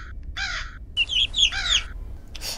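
A crow in the Granny horror video game caws in several harsh, nasal bursts, loud and close, separated by short pauses, with no voices over it.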